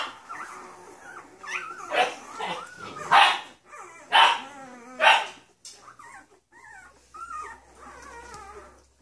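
Newfoundland puppies on a farm yip, whine and bark excitedly in a run of short, high calls, with a few louder barks rising through the middle before the sounds taper off.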